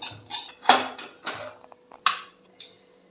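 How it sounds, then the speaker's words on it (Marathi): Roasted sesame seeds are scraped from a pan onto a plate, giving a run of close metallic clinks and spatula scrapes in irregular bursts, with no voices. "मी हे तीळ आता खाली एका ताटलीत काढून घेते आहे."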